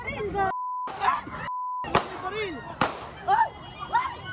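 Several sharp handgun shots ring out in quick succession as an SUV driver fires at motorcycle riders, loud and close, amid shouting and excited voices.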